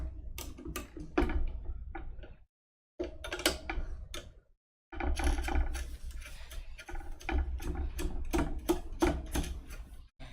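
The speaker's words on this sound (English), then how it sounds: "There's not much room to swing a wrench in there." A wrench turning nuts on the Y-axis frame of a Prusa i3 Mk2s 3D printer during assembly, giving close, faint ratcheting clicks in quick bursts separated by two short pauses.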